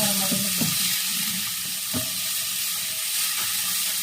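Onion frying in a pan with chicken adobo cooking, a loud steady sizzle with a few stirring scrapes near the start and no voices.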